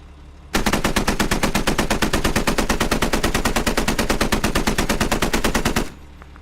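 A 30 mm machine gun in a video game fires one long, unbroken burst of rapid, evenly spaced shots for over five seconds, loud and close, starting and stopping abruptly.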